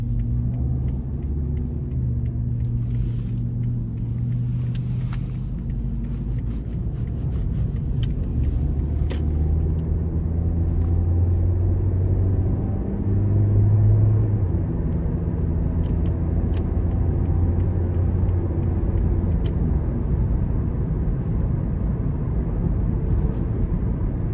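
A 2010 Toyota Corolla LE engine pulls steadily under throttle from inside the cabin, a continuous low drone with rising harmonic tones and road rumble throughout.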